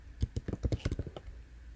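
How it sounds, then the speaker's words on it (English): A quick burst of keystrokes on a computer keyboard while entering a command, about a dozen close, crisp taps in an uneven rapid rhythm. "I'm going to go ahead and type in cyber."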